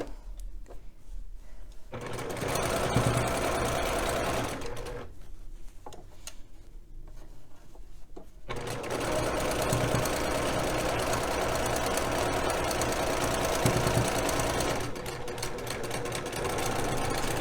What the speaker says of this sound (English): I'm going to put a couple stitches back and then go forward and pull it off